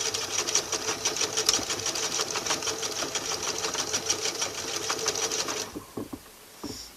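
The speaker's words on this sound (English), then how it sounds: "you just have to sew together the fabric" Sewing machine stitching fabric back and forth for a scrunchie, a close, steady rapid needle clatter that stops near the end, leaving a few faint handling sounds.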